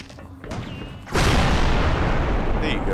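An explosion goes off in the game Oddworld: Stranger's Wrath, a sudden loud boom about a second in that gives way to a sustained roaring rumble, preceded by quieter game sounds.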